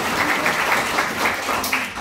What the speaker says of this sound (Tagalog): Isang malakas nga na palakpak para kay Best Barley.